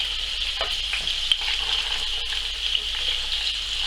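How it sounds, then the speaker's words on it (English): Sausages hit hot beef fat in a pan for toad in the hole, giving a steady, close sizzle with a faint crackle and a couple of sharper pops, and no talking. "place the sausages in as quick as we can, so we don't want it cooling down too much"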